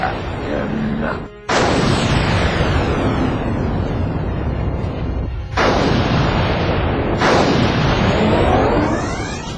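A sci-fi radio drama explosion and its blast wave: repeated loud, roaring bursts of rumbling noise, each sweeping in with a hiss and holding for several seconds, with a brief dip between them, no speech.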